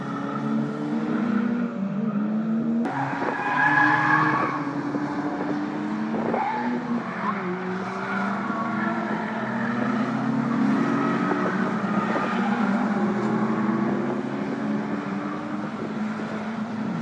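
Several Caterham race car engines whine and rise in pitch as the cars accelerate out of a corner at Croft circuit and shift gears, overlapping at a moderate distance over a continuous roar.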